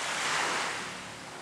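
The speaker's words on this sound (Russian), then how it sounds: "И вот пошли такие волны." Broad rushing wash of sea waves stirred by ships leaving Yokohama port, a continuous surging hiss that swells then eases slightly, steady and fairly close.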